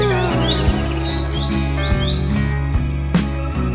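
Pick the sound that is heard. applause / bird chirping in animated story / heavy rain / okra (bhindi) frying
bird chirping in animated story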